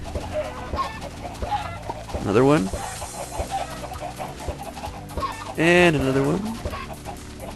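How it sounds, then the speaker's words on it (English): Chickens on a Minecraft chicken farm cluck and squawk in a rising, rattling burst, then a second burst a few seconds later, under a busy mix of game sounds, while a voice talks over them. "I could just spend all day in a chicken farm making chickens"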